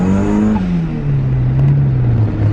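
A turbocharged Mazda Miata accelerates hard in second gear, its engine note loud and close, droning steadily with a slight dip in pitch and no talking.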